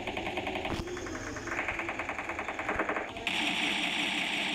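Rapid automatic gunfire in a shooting video game, sustained bursts that get louder and denser toward the end, set against a busy game soundtrack.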